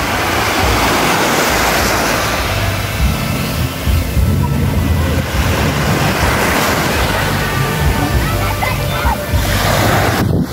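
Sea waves at San Isidro Port, a loud continuous wash of surf and sloshing water close by, heard alongside a person talking.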